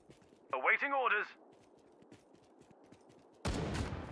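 Gunfire from a Dunkirk-themed World War II strategy video game bursts in near the end as a loud, dense volley of overlapping shots, after a short stretch of music or voiced tones and a quieter rumbling background.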